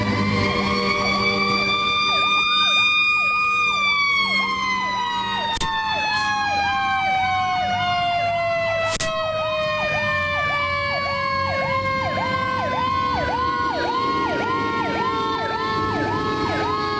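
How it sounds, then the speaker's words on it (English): A fire truck's wailing siren sweeps up and down continuously, loud and close, and holds for the whole stretch as the truck passes during tornado damage coverage, with no talking over it. "Again, you hear more of these sirens. There's a fire truck coming this way right now."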